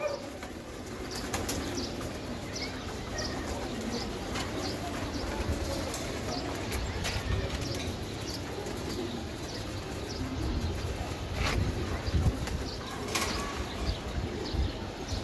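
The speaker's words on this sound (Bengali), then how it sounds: "এখানে এক পেয়ার লাল খাকি কবুতর আছে দেখেন" A pair of red khaki pigeons, male and female, in a loft, with soft cooing and bursts of wing flapping against a busy steady background, some sharp flutters standing out.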